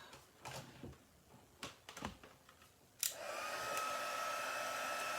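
After a few handling clicks and knocks, a handheld heat tool switches on and blows a steady, close whoosh to melt embossing powder on a paper card for a gold-leaf craft.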